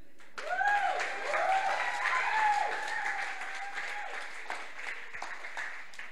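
A fuller, louder burst of audience clapping at a Nerd Nite Tokyo event, a dense, steady patter from many hands with a few whoops and cheering voices rising over it before it gradually thins out.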